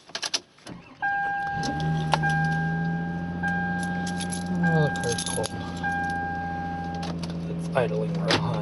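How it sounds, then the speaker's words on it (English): A car engine starts and settles into a high, steady idle, a near constant drone with a whining tone, keys and small cabin clicks and rattles mixed in. "Idling real high."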